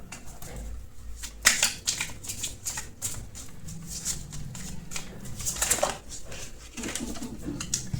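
Tarot cards being shuffled by hand, a run of quick papery riffles and slaps that rise into louder bursts and then continue steadily, close up with no talking.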